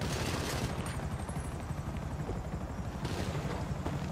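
A helicopter in GTA 5 Online, its steady rotor rumble running throughout at high level, with scattered gunfire mixed in.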